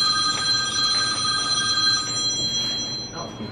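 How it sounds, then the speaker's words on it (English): Phone ringing indoors with a bright, sustained electronic ring that pulses in repeated bursts and fades near the end, loud and close with no talking over it. "And my phone's ringing."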